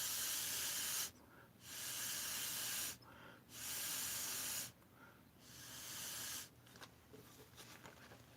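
Bursts of spray from a regular Sharpie marker converted into an airbrush: four steady, loud hissing blasts of about one to two seconds each, separated by short quiet gaps, with no talking.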